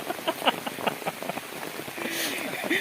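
Rain falls on a mountain hike, with scattered close drops tapping on an umbrella and a soft wash of rain, while people talk over it.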